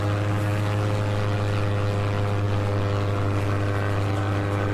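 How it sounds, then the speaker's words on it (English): A transport plane's propeller engines drone in a steady, continuous hum with no break, flying in the video game Attack on Toys; no voices are heard. "These are just transport planes, I think."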